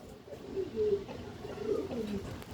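Soft, low cooing from a pigeon of an Amar Reddy breeding line, a few gentle rolling coos close by in a quiet space with faint background noise.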